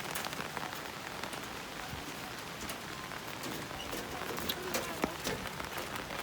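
Steady rain patters and hisses on surfaces in the Philippine countryside during the rainy season, a dense, even wash of drops with a few faint bird coos behind it.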